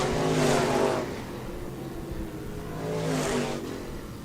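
Stock cars race around the Park Jefferson Speedway oval, engines roaring loudly as two packs sweep past in turn, swelling, fading to a steady drone between, then surging again.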